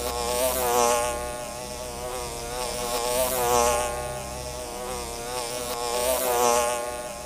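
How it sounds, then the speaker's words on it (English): Wild bees swarm around a giant beehive in a tall honeycomb tree during a smoky honey harvest, a dense continuous buzzing that swells and fades in slow waves, close and loud, with no talk. "Thankfully, the smoke began pushing the bees away little by little."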